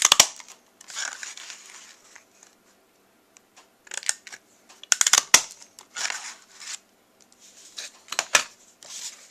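Scissors trimming a strip of cardstock for a handmade Easter card, giving several close, crisp snipping and crunching cuts in short bursts with quiet pauses between them.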